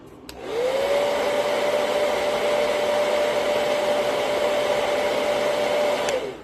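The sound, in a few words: hair dryer blowing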